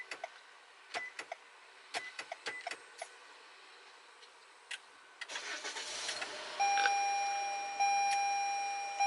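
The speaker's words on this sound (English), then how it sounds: "the vehicle has remote started" A 2019 Toyota RAV4 starts up by remote, with mechanical clicks and short beeps before the engine catches and settles into a steady idle, heard from roughly ten feet away with no talking.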